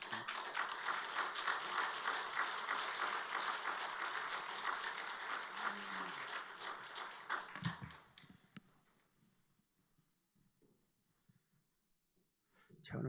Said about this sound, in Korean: 나오실 때 또 감사, 환영의 박수 해 주시기 바랍니다